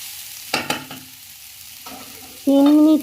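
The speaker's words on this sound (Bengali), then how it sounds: "এবার সজনে ডাঁটাগুলো এর মধ্যে মিশিয়ে দিতে হবে।" Drumstick pieces are stirred into a pan over low heat, with a few scraping and clattering strokes, faint sizzling between them, and a loud steady tonal hum in the last half second.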